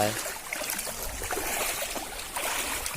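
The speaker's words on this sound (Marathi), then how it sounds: "चला आता हे बघा नदी" A village river flows by, a continuous rushing, gurgling wash of water heard nearby with slight swells in loudness.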